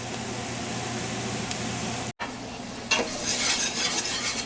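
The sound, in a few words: flour browning and being stirred in a pot for shrimp bisque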